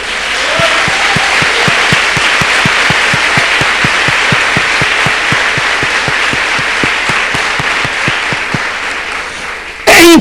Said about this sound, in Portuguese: Você fala Jesus, você pode aplaudir, vamos lá.